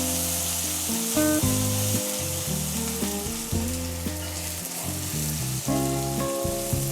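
Loud, close frying and sautéing in oil hisses steadily for a Bengali tel koi fish curry. A sustained low tonal hum runs beneath the sizzle.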